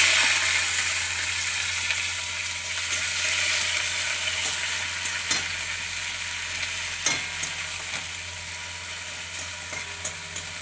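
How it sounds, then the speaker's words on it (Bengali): Onions frying in hot oil with whole spices such as cracked cardamom, a steady bright sizzle throughout with occasional sharp clicks of a spatula scraping the pan, no voices. "পেঁয়াজটা একটু ভাজা ভাজা হয়ে গেলে"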